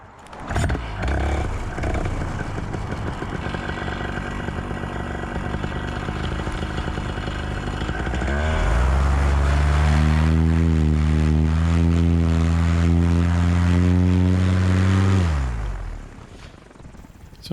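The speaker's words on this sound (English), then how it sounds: "I'm going to try and get my engine started" A paramotor engine fitted with a brand new spark plug idles roughly at first, then fires up and runs loud and steady at higher revs for several seconds before cutting back down.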